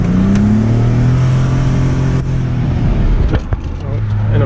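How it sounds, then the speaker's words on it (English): Mercedes W210 with an OM606 turbo diesel accelerating hard, heard from inside with the windows down, engine rising in pitch through the revs with a gear change, loud and continuous while someone talks. "Roll down the windows so you can hear some of the turbo noise and stuff."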